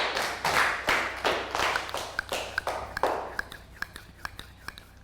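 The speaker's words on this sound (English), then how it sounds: "Round of applause for Annette." Students in a Year 3 classroom clap for a classmate in a short burst of close, slightly uneven applause that thins into scattered individual claps as it dies away.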